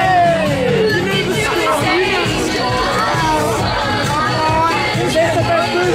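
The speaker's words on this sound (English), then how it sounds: "just take a look at this crowd" A dense outdoor crowd chatters before midnight in Newcastle, a loud continuous babble of many overlapping voices with occasional shouts and whoops.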